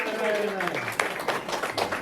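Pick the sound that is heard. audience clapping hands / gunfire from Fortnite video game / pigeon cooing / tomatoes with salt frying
audience clapping hands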